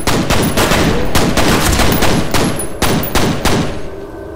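Rapid, loud gunfire fills the first-person shooter F.E.A.R., with sharp repeated bursts coming close together and easing off slightly toward the end.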